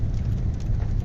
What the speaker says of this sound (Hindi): अल्लाह का शुक्र है कि लाहौर में बारिश हो रही है